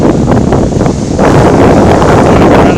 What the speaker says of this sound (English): It's very windy down here.